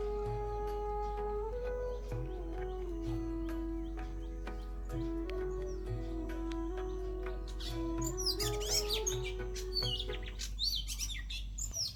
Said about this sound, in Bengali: সকালটা শুরু হলো পাখির ডাকে, কত রকমের যে পাখি।